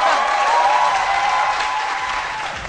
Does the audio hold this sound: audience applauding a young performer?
yes